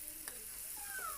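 Okra pieces being stirred into cooked tomato in a pan, with a faint sizzle and a couple of soft scraping strokes of a spoon, quiet and close.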